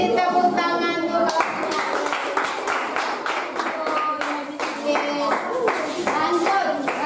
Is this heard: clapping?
yes